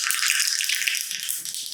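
Mustard seeds spluttering in hot oil for a chutney tempering: a dense, close crackle and hiss with a few sharper pops, brief and without voices.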